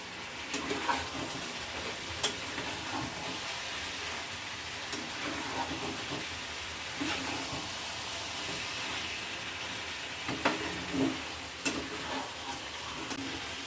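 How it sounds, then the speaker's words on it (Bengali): Potatoes being stirred and fried in a pan for a Bengali-style chicken curry make a steady, moderate sizzle broken by scraping and clinking from the stirring, with no talking. "আলুগুলো দিয়ে ভালো করে নাড়াচাড়া দিয়ে একটু কষিয়ে নেব।"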